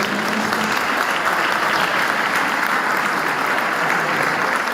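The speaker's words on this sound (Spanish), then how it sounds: "un fuerte aplauso a los nuestros escritores" An audience at a book launch for a volume of mining-town myths and legends claps for the writers in dense, sustained applause. The clapping is loud and close and fills the whole stretch.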